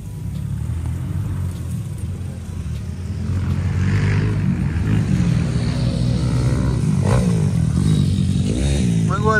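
A Kayo TT 140cc pit bike rides on a dirt track, its engine droning and rising in revs, moderately near and loud, with a brief voice in the background.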